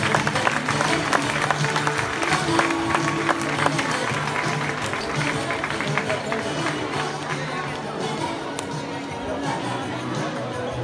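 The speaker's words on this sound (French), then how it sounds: "Sous vos applaudissements" An indoor crowd applauds steadily for a men's handball team being presented at a club's official 2018-2019 season presentation, a dense, sustained clapping with crowd chatter and an announcer's voice over it.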